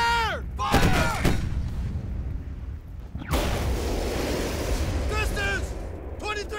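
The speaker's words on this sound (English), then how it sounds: "Fire all three cannons! Fire! Fire!" Battleship cannons fire in a rapid barrage, heavy booming blasts with whooshing and rumbling aftermath, loud and close, while shouted voices and whistling sounds mix in throughout.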